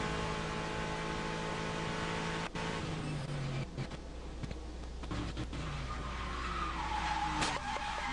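A race car locks its brakes and skids into a spin during a Grand Am Rolex Sports Car race in Mexico City, heard onboard as a close, constant engine roar with scraping tire squeal and skid noise.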